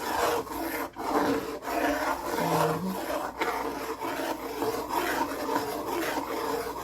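A spoon stirs thick peanut and oats porridge in a pot, Jamaican style. It makes a continuous rasping, rubbing scrape, close and steady, with brief pauses between strokes and no talking.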